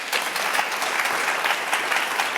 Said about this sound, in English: Yes, applause to them.